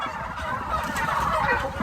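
A flock of turkeys gobbles inside a turkey barn, their overlapping rattling calls forming a dense, continuous chorus that fills the space at close range.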